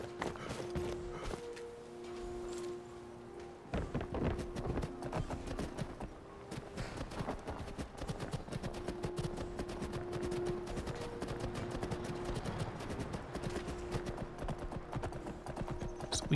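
Horse hooves clip-clop steadily on the ground in the Skyrim: Wildlander video game, a continuous walking rhythm under dense ambient game sound and music.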